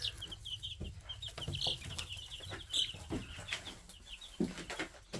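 Young chicks under a heating lamp keep up a fast, busy chorus of high peeping chirps, soft and continuous, with occasional fluttering and scuffling.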